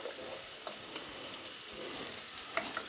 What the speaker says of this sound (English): I've got the bacon lardons in the pan to fry off as well